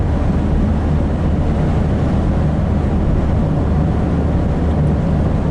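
Constant loud, rumbling wind roar filling the cabin of a moving campervan with a 2-litre diesel engine at about 70 mph, broadband and unbroken throughout, with no talking.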